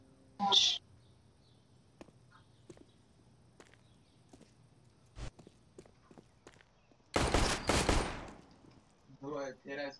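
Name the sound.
gunshots in the video game CS:GO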